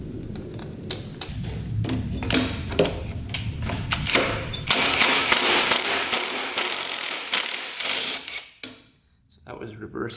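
A rusty reverse-thread nut being worked loose on a 1960s Ducati scooter, with rapid ratcheting clicks in bursts, close and fairly loud, before a brief quiet near the end.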